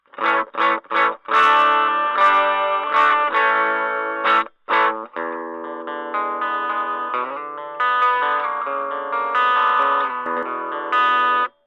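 A clean electric guitar recorded through a Wasaphone microphone plays short choppy notes, then longer sustained melodic lines, with a thin, colored, slightly effected tone and no talking.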